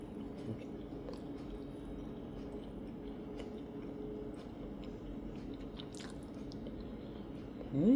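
Quiet, wet chewing of baked ham with a honey and brown sugar glaze, soft squishy mouth sounds repeating close to the mic over a faint background hum.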